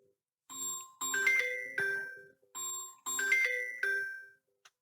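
A chiming ringtone-like bell melody sounds twice in a repeating pattern of bright tonal notes, clear and moderately loud in an otherwise quiet room.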